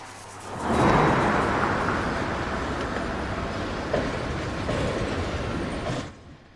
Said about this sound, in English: Ooh, some train action.